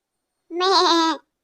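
A goat gives a single clear bleat of under a second, loud and close, with no other sound around it.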